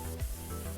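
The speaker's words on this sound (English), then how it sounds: "I can probably get that with the deep spray." Steady broadband hiss of the deep spray nozzle on a pressure washer in Powerwash Simulator, running continuously at moderate level with a low mechanical hum and brief surges in intensity.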